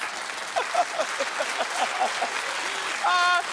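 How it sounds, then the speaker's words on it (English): Studio audience applause on a daytime TV talk show: a steady, dense wash of many hands clapping at once, moderately loud, with a brief voice rising over it near the end. "Keep clapping."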